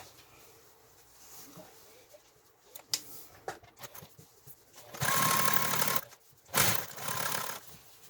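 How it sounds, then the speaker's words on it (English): A serger stitches a seam on a denim bag made from old jeans, with two short bursts of rapid machine whirring after quieter handling sounds. "I have sewn the first seam here, and I used my serger"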